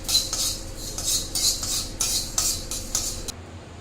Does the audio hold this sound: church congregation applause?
no